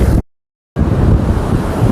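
Sea waves at Paradeep beach give a dense, close roar mixed with heavy wind buffeting on the microphone. The sound cuts out completely for half a second, then returns just as loud.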